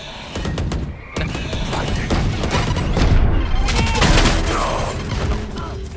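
Gunfire crackles in a Valorant match as rapid bursts of shots and sharp mechanical clicks fill the mix with dense, loud impacts, while in-game effects rumble underneath.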